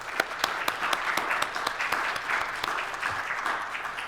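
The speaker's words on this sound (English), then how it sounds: "I want to give you a round of applause" Audience at a military hospital ceremony for the Army Nurse Corps anniversary claps continuously, a dense, fairly loud patter of many hands with a few sharper claps popping out.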